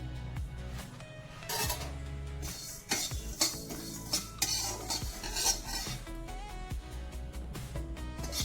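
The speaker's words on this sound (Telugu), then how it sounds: "తర్వాత ఏమో ఆవాలు వేసి మీడియం ఫ్లేమ్లో డ్రై రోస్ట్ చేద్దాం" Coriander, cumin, fennel and mustard seeds dry roasting in a pan over a medium flame, with repeated scraping and stirring strokes, light metallic clinks and a faint crackle underneath.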